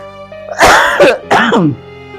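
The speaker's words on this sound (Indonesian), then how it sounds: "Dulu saya batuk dulu." Two harsh, throaty coughs in quick succession, close and loud, with a brief pause between them.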